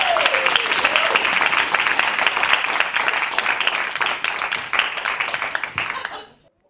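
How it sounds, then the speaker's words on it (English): A speaking-contest audience gives a speaker a loud, sustained round of applause, dense clapping that holds steady, then cuts off near the end. A brief voice is heard at the start. "Please give a massive, huge round of applause for Daniel Brown,"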